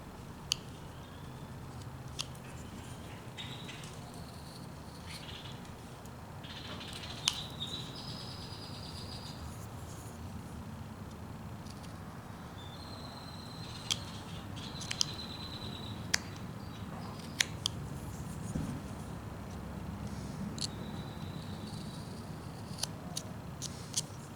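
A knife whittles a small block of wood into a 3/4 x 3 inch miniature figure, giving faint, sporadic scraping and clicking cuts that come close and quiet in a still room.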